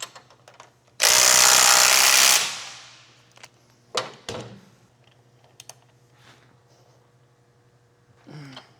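A new nut on a 1/2-inch bolt is run down by a power tool on a CSC trike build, the parts being the exhaust, brakes and driveshaft. One loud, steady burst lasts over a second, then comes a few sharp knocks and clanks, with no talk.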